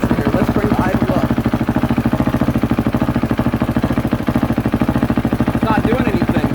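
A KTM 450SXF single-cylinder four-stroke motorcycle engine idles close by, a loud rapid even thumping that holds a steady pace throughout without audibly rising.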